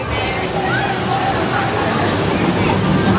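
A log flume ride at a Six Flags amusement park makes a steady rushing, sloshing wash of water under crowd babble throughout, with no distinct single splash impact.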